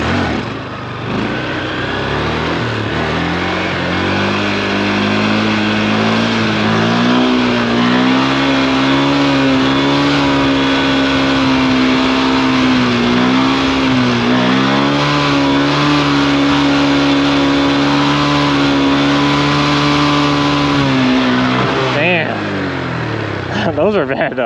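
A motorcycle engine revs hard at high RPM through a wheelie, a loud, steady sustained whine that holds near and dips briefly before easing off at the end, with voices talking over it.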